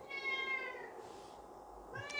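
A house cat meows repeatedly, its drawn-out harmonic cries close and fairly loud, rising and falling across a couple of seconds with no one speaking over it.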